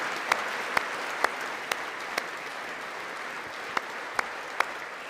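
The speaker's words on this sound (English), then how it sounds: "Who's clapping right into their fucking microphone?" Someone claps right into a microphone, about eight sharp, loud, close slaps at an irregular pace over a low steady hiss.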